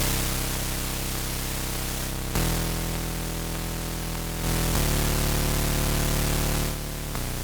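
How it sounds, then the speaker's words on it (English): A harsh, squashed wall of distorted noise over a buzzy saw-like tone, loud and continuous, its pitch stepping down and up in several abrupt shifts. "If you add white noise to a saw wave and then distort it, you get this really squashed."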